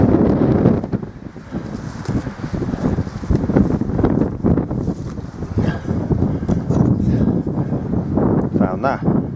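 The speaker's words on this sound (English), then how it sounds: "It's a bit breezy" Strong, gusty wind roars across an exposed mountainside on Cader Berwyn and buffets the microphone in rough surges throughout, with someone speaking over it.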